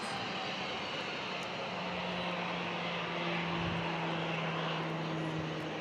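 An airliner on a low approach at San Diego International Airport, a steady broadband engine roar with a faint whining tone, holding fairly constant at moderate distance throughout.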